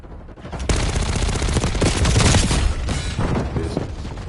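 Heavy automatic gunfire in Black Ops 6, a dense, loud sustained barrage of rapid shots with booming low end that runs nearly unbroken for about four seconds after a brief quiet start.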